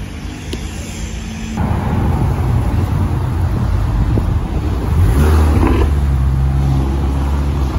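Cars pulling away from a car show in pouring rain, a loud continuous rumble of engines and wet road noise with rising revs, heavy and close throughout.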